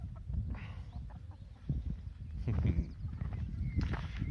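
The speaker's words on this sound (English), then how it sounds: "Rocky the rooster." Chickens, including a rooster, cluck and murmur close by in a fenced farmyard, with a few louder squawks rising over a steady low bed of fowl noise.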